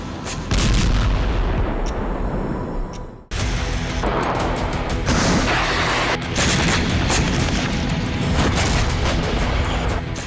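Russian artillery bombardment in Sudzha, Kursk region, brings heavy repeated booms and blasts, loud and dense, with a brief drop before the barrage resumes and continues with no voices.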